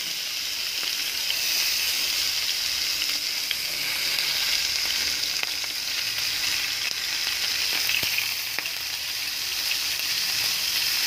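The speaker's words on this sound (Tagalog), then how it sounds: "Ipa-fry na natin yung ating pork" Pork fries in a pan with a loud, continuous close sizzle and hiss, dotted with occasional pops and crackles.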